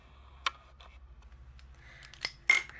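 Scissors snip at close range while paper bows and presents are fussy cut for a handmade celebration card, with a few separate sharp cuts spaced out over a quiet background hum.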